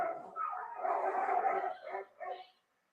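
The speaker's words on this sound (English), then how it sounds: "My dogs are having a full on fight." Dogs scuffle in a fight, with a run of close, growly barks and yips that swell and break off in short bursts before falling quiet.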